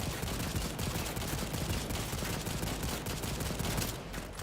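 Dense, continuous automatic gunfire aimed at raptors in a dinosaur shooter game, a sustained loud crackling barrage with no pauses.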